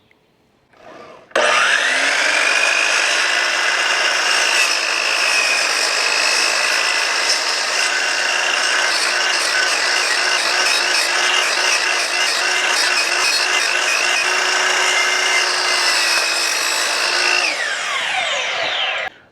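Power tool, likely a circular saw, cutting into a 4x4 wooden post to hog out a lap joint, a loud, continuous whine sustained for about sixteen seconds that starts abruptly and spins down at the end.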